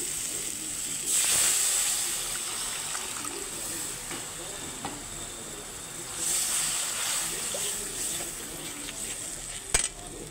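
Water poured into a pan of sizzling fried masala, setting off a loud hissing surge of steam that fades to a steady frying crackle, with a second sharp burst later on.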